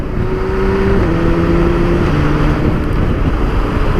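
A 2017 BMW K1600GT motorcycle rides at speed, its engine droning loudly with rising tones and quick-shifter gear changes under heavy wind rush, with no talking.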